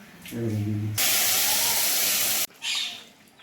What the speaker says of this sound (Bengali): প্রথমে কালো জিরে ফোড়ন নিয়ে নিলাম তেলের মধ্যে